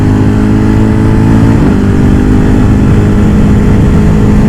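X-Cape 1200 motorcycle engine running loud and close, a rough, steady idle rumble with a brief rev bump partway through before it settles back to an even throb.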